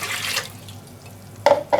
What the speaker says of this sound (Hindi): ये पानी चला गया बीच में।